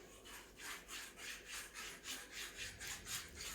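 An aluminium trimming tool scraped across a Breville Barista Express portafilter to level off excess ground coffee, giving a soft, rhythmic rasp of about eight even back-and-forth strokes, close and quiet.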